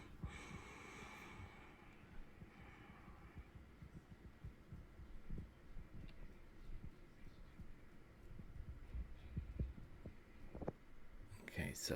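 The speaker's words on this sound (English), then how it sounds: "Can I hear my heartbeat?" A heartbeat sound effect plays as a low, muffled, rhythmic thumping under a faint hum, quiet and steady throughout.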